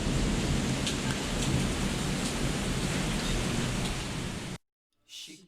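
Heavy daytime thunderstorm in Macau, loud dense rain roaring with deep rumbling thunder throughout, cutting off abruptly near the end before a brief faint sound.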